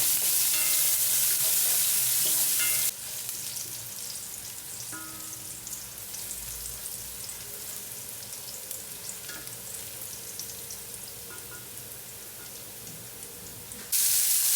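Garlic sautéing in cooking oil in a pan as the first step of a Filipino dish of chicken hearts and bitter melon, a loud steady frying hiss that runs throughout with no talking.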